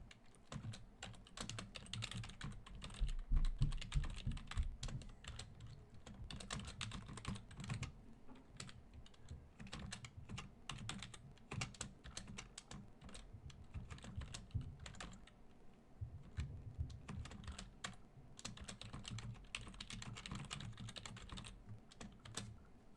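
Steady, rapid clicking of keys on a computer keyboard as code is typed into the Eclipse editor, close and fairly quiet, continuing with brief pauses for over twenty seconds and no voices.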